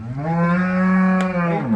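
A young first-calf milking cow, sold to a buyer in Belur, gives one long, deep moo that lasts almost two seconds. The call is loud and close, with nothing else heard around it.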